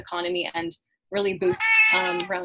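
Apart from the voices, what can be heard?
cat meowing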